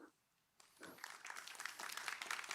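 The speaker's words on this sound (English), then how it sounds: "everyone was clapping" Audience applause at an Arendalsuka 2021 talk on making peace with nature, starting abruptly after a brief quiet moment and building into steady, dense clapping from a crowd.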